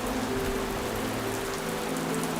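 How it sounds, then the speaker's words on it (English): Steady rain pours through the Western Ghats forest, a dense, even hiss of drops on leaves that holds unbroken throughout, with no voices. "The rains continue."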